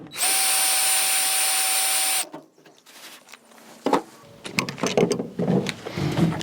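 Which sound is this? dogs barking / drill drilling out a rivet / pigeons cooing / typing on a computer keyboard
drill drilling out a rivet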